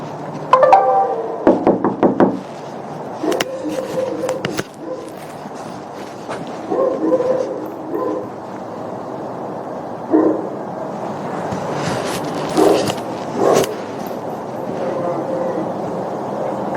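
A dog barks close by in loud, sharp bursts. Some come in quick clusters and others stand alone, with short yips and knocking thuds between them over a steady background.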